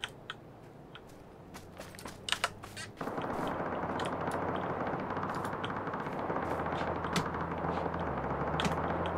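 Bursts of video game gunfire in PUBG crackle over a steady hum, sharp shots early on followed by a continuous noisy rumble with scattered pops.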